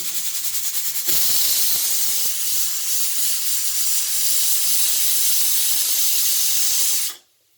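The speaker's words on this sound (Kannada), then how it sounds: "ನೀವು ನೋಡ್ಕೊಂಡು ನೀವು ವಿಷಲ್ನ ಕುಕ್ಕರಿನ ವಿಷಲ್ ಕೂಗಿಸ್ಕೊಳ್ಳಿ" A pressure cooker cooking dal lets off a loud, sustained steam hiss through its whistle for about six seconds, starting abruptly and cutting off sharply at the end.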